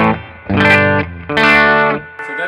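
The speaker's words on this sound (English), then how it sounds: "that's the clean channel of the Boogie," An Eastman SB59 electric guitar rings through the clean channel of a Mesa Boogie Express 5:50 amp, a few loud sustained chords struck in succession with bright harmonics and a short gap between them.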